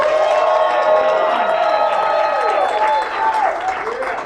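Comedy club audience at a casino show in Atlantic City applauding and cheering, a loud dense wash of clapping with whoops and shouts throughout, swelling and easing slightly near the end.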